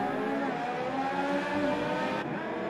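Race cars in an F1 2018 video game race with tyres locking up, heard as a loud, steady, high engine whine with tonal squeal over the engine and a brief change near the end.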